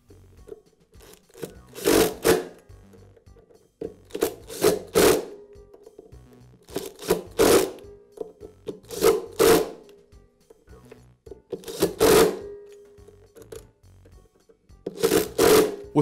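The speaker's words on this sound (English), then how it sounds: "And now install the remaining screws." Screws being driven into a DeWALT planer blade holder during repair make short, sharp mechanical bursts repeated every couple of seconds, close up, with quiet gaps between them.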